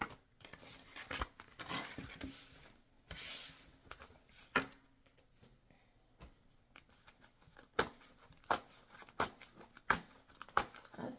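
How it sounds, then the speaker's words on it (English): Soft, quiet riffling and flicking of a deck of cards being shuffled, with scattered light snaps and taps that quicken into a sharper run of clicks toward the end. "I didn't want y'all seeing me shuffle this deck all raggedy."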